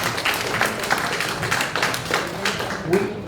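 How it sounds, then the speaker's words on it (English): Applause at a town hall meeting, scattered close claps and taps mixed with talk from the crowd. "if we can give these gentlemen a round of applause, thank you guys so much for being here"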